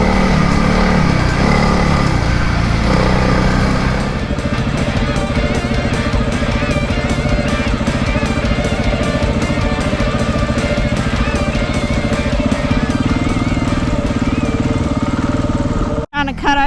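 A motorbike engine labours steadily and loudly while riding through thick beach sand, a constant droning rumble that holds throughout and cuts out abruptly right at the end.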